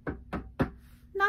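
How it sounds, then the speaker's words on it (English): Three firm knocks on a door, evenly spaced and close, told within a Three Little Pigs story, followed by a brief voice starting to speak. "knocked on the door"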